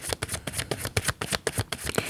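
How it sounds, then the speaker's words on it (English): Rapid riffling of a card deck, a series of quick papery bursts repeating roughly every quarter second, close and fairly soft. "last shuffle through"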